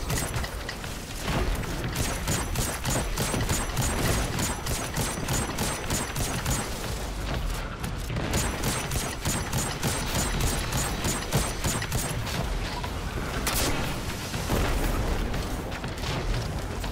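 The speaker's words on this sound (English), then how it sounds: "Ship still got the cannons up." Ship cannons fire in Destiny 2 during a Grandmaster Nightfall, a dense, continuous barrage of booms and clanking mechanical bursts that runs loud and unbroken throughout, with no talking.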